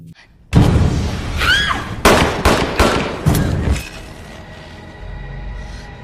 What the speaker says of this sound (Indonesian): sehingga dengan refleks Elisa melepaskan tembakan